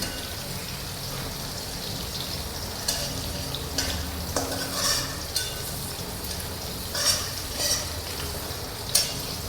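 Masala with green chili and garlic frying steadily in a pan for spicy methi bhaji, a continuous sizzle broken by several sharp scraping stirs, close and fairly loud with no talk.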